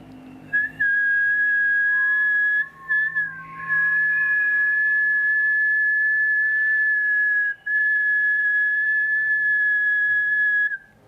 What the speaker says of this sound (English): inhaling and exhaling through your mouth while making a whistling sound